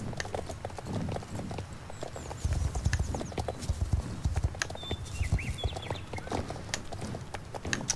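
Horses' hooves clip-clopping in the video game Star Stable Online, a steady stream of crisp hoof clicks over soft background ambience, with occasional faint bird chirps.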